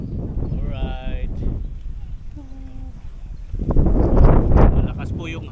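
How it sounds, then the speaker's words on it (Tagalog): Strong wind buffets the microphone in heavy rumbling gusts, with a few short animal-like bleats and a surge of roaring wind near the end. "Malakas po yung hangin."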